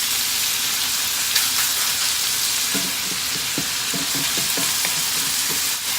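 Sausage sizzling in a frying pan, a loud continuous hissing crackle with faint scraping and light knocks midway, close up and without any talking.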